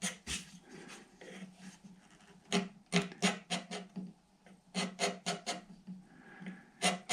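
A half-inch scraper shaves lacquer off a guitar headstock in short, close rasping strokes, coming in irregular clusters of quick scrapes with brief pauses between them.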